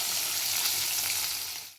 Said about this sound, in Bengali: এগুলো একদম লাল লাল করে মাছগুলো ভেজে নেবো।